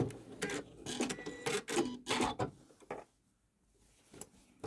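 An embroidery sewing machine finishes a heart stitch pattern with a lock stitch, giving faint, rapid mechanical clattering bursts for about three seconds before falling to near silence.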